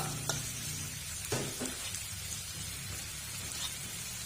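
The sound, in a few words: fish frying in chu chee curry in a pan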